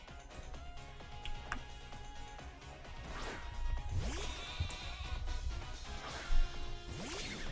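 Sheep-like Pokémon cries from the video game Pokémon Sword, several bleating calls over game background music and effects, fairly close and moderately loud, with no talking.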